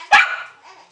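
A single sharp dog bark, close and loud, trailing into a faint whimpering yip.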